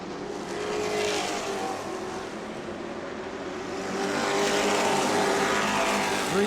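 Trucks racing at New Smyrna Speedway in a Truck Series event, engines roaring continuously as a pack passes, swelling louder toward the end with a broad, steady motor drone and no talk.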